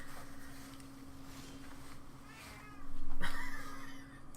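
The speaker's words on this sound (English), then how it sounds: "That cat." A cat meows nearby, a drawn-out, wavering cry that swells into a louder call near the end, heard over a steady low hum with no talking.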